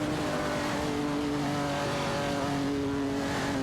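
Racing video game engines of a Ford Falcon XB GT and a BMW M1 drone with steady, sustained tones, close and continuous throughout, with no talk over them.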